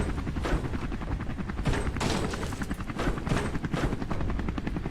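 Helicopter in the video game Terminal, a loud continuous rotor chop with pulsing beats, heard alone without talk.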